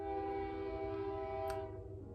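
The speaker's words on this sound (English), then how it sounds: "now there's a train" A passing train sounds its horn in a long, steady blare over a continuous rumble of rail cars, loud and unbroken throughout.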